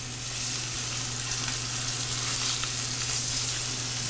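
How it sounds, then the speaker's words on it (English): Pork searing in a hot pan, a loud, steady, close sizzle and crackle of frying meat with a constant hum beneath and no talking. "You know you got a hot pan when you could hear that sizzle."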